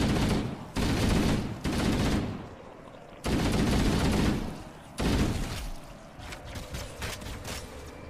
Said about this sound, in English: I recall my assault rifle not being nearly this good